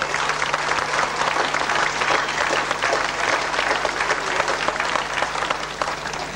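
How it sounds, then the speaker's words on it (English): Sustained applause from a large crowd at a civic reception after a drum corps performance, dense steady clapping throughout with no pauses. "could you give another round of applause, please, for the Vulcan Drum Corps?"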